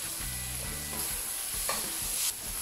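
About 100 grams of butter melting in a pan over the lowest heat while pork liver pâté is made, giving a steady, fairly quiet sizzle with light scraping and stirring clinks and no talk.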